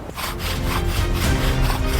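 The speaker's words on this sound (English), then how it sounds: "When I saw Quinn doing his bow drill, I was like, that's awesome" A bow drill spinning a wooden spindle against a wooden board to make fire, producing a loud, continuous rhythmic rasping and grinding with steady back-and-forth strokes, up close.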